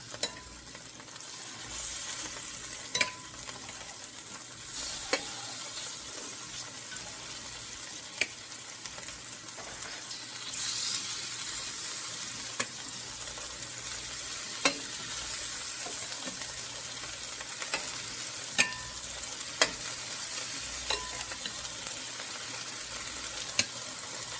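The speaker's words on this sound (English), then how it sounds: "in our pan now we're going to add the rest of our meat and get this seared" Beef tips sear in a hot pan with a soft, continuous sizzle, punctuated every few seconds by sharp clicks and taps of a utensil.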